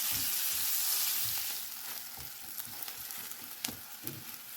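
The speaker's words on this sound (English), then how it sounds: "One large onion sliced, a bit of salt, and cook this till the onions turn light brown in color" Sliced onion with a pinch of salt fries in a pan, giving a continuous hissing sizzle that softens after the first second, with soft stirring knocks, nearby and without talk.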